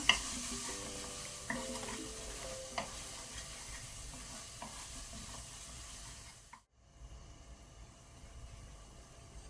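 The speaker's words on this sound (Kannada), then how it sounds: "ಲೋ ಫ್ಲೇಮಲ್ಲಿ ಸ್ವಲ್ಪ ಮಸಾಲವನ್ನು ಟೊಮೆಟೊ ಜೊತೆ ಫ್ರೈ ಮಾಡ್ಕೊಳ್ಳುವ." Masala with tomato and turmeric fries on a low flame for pav bhaji as a spoon scrapes and stirs through a gentle sizzle, which cuts off abruptly near the end and gives way to a quieter, fainter hiss.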